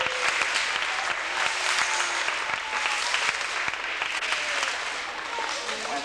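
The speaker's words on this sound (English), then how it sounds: "let's clap for her" An audience at a 1989 school store ribbon-cutting event applauds a former PTA president with dense, steady clapping that fills the room, a voice faintly audible beneath it.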